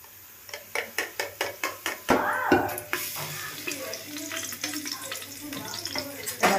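Ghee heats in a pressure cooker for chicken biryani: a run of sharp, regular taps gives way to a steady, close sizzle that hisses on with a few bubbling pops, while faint voices talk in the background.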